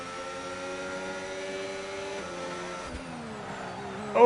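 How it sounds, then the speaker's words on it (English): Sim racing car engine in wet, tricky conditions at Spain round, steady harmonic drone with a brief rise near the end as the tires lock under braking; no talk heard. "you can hear the tires locking up as he's trying to get it slowed down."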